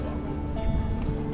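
Rough sea surging against the shore near seals in Santander, Cantabria, a brief loud wash of waves mixed with wind noise.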